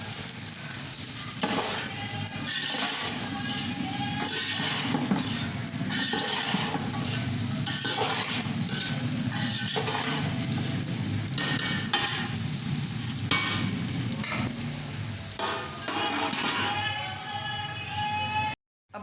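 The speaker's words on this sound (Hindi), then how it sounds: "अब इसको 10 मिनट के लिए हल्का सा फ्राई होने के लिए रख दूँगी" Bhindi (okra) fries on low heat with a continuous close sizzle and crackle. Frequent clinks and scrapes of stirring run through it until it cuts off at the end.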